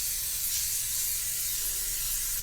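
Aerosol grease spray hisses steadily onto a surface while making sugar sheet and isomalt sail cake decorations, a continuous close, even burst with no talking.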